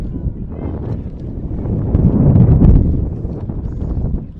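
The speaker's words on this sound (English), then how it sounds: "And you can hear the wind." Wind buffeting the microphone beside a girls' high school soccer field, a steady low rumbling roar that swells midway and stays loud throughout, with no clear talk.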